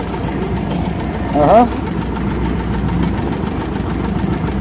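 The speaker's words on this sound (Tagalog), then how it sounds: "nagkukondisyon na sila ng mga makina nila" Fishing boat engines idle with a steady, low mechanical rumble that fills the whole stretch, and a brief rising whine cuts in partway through.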